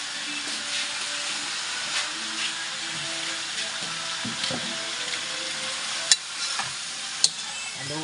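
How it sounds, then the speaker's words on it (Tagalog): Food sizzles and fries steadily in a pan while a ladle stirs it, with a constant hiss broken by a couple of sharp scraping clicks near the end. "haluin lang po ng sandok"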